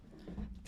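A puppy gives a brief soft whimper mixed with quick panting breaths, close but faint, lasting under a second.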